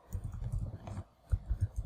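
Quick, uneven keystrokes on a computer keyboard, close and fairly quiet, coming in short bursts with brief pauses between them.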